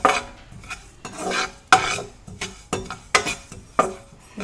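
Sesame seeds dry-roasting in a pan for a Garhwali til chutney, stirred in repeated close, scraping bursts with short pauses between strokes, no voices.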